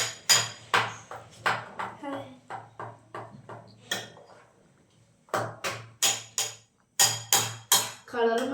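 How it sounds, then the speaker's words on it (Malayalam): Utensil clinking and tapping while aval milkshake ingredients are mixed in a home kitchen, a steady run of sharp close knocks with brief pauses, alongside a person talking. "ഇനി നമുക്ക് ഇതിവിടെ മിക്സ് ചെയ്ത് റെഡിയാക്കാം."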